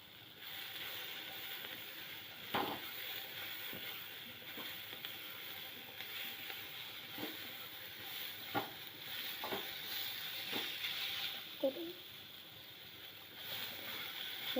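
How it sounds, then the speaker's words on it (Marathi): Chopped onion and tomato frying in a pan for paneer masala, a soft continuous sizzle with occasional scrapes and clinks of a stirring spoon, alone with no voices. "हे आता मी चांगले भाजून घेते कांदा टोमॅटो।"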